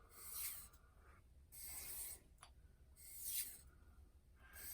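Knife edge drawn in edge-trailing strokes across a King water stone, giving four long, faint, rhythmic rasping passes with brief pauses between them.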